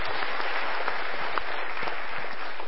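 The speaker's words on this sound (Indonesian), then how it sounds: "Kita berikan tepuk tangan dulu" Steady applause from a large studio audience at an Indonesian motivational talk show, dense continuous clapping filling the room without pause.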